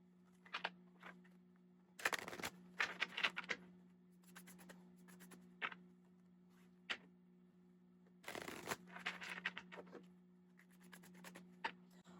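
Tarot cards shuffled by hand in bursts of riffling and sliding, with short taps and pauses between, close and clear over a steady low hum.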